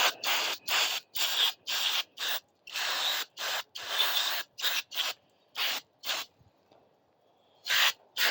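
Cleaner spray rinses down a Nibbi PE26 carburetor in a run of sharp, close hissing bursts, some short and some longer, separated by brief silences, with a quieter gap near the end.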